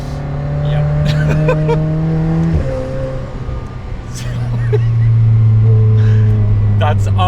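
A McLaren supercar drives along a road, its engine droning steadily and rising in pitch as it accelerates, loud and close throughout, with a voice speaking in places.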